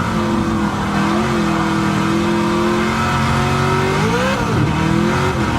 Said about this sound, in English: Spinning the tires all the way up the hill.